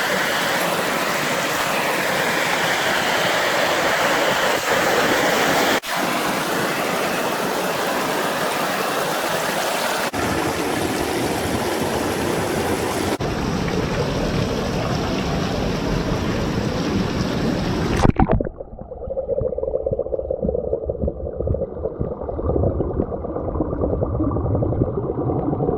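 A waterfall and stream pour in a steady, dense roar at the Walls of Jericho in Alabama. The rushing water is loud and close throughout and eases into a softer flow near the end, with no voices.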